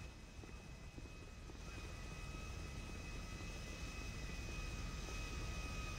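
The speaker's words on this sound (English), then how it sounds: "That's our plane!" Airplane engine in the GTA V video game, a steady droning roar with a faint whine that holds and builds slightly over several seconds, with no talk over it.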